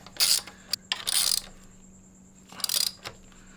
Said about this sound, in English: but you should be able to get your 13 around that nut. And then we can tighten this guy.